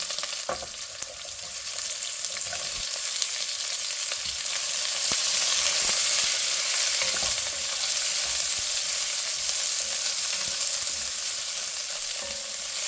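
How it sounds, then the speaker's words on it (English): Onion dropped into hot oil with dried chillies and seeds sizzles loudly and steadily, a dense continuous hiss that holds close and even throughout, with no voices. "Now we put in the onion."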